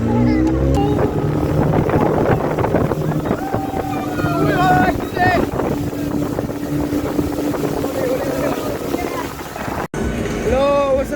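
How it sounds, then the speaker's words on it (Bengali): A speedboat ride at a holiday park: the motor drones loud and steady with wind buffeting the microphone, while people talk and shout over it. "স্পিড বোর্ডে উঠে নিছি"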